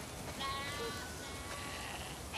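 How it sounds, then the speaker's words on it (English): Sheep bleating in the video game The Last of Us 2 on a farm, a few faint bleats over a steady, noisy background hiss. "We definitely have way too many sheep."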